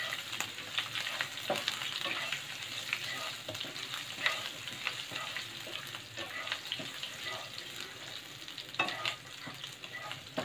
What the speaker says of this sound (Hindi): हमारा अदरक भी अब भुन गया है